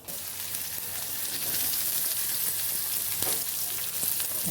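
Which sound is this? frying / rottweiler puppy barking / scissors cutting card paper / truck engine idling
frying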